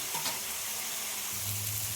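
Food frying in a pan in a home kitchen, a steady close sizzle with a few light stirring scrapes and a low bubbling rise near the end.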